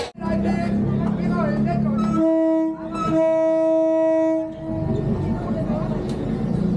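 A train rolls slowly through a Thai railway market, sounding a loud sustained horn with steady tonal blasts over rumbling wheels and crowd chatter nearby.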